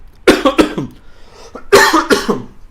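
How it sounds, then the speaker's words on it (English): Two bursts of harsh coughing, each a pair of rough hacks, close and loud with a brief pause between them. "Sorry for my cough."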